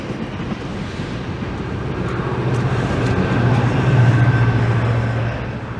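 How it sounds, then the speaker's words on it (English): A westbound GO commuter train rumbles past at a steady, building roar that peaks then eases slightly, with a continuous low hum and no voices. "And there goes a westbound GO train."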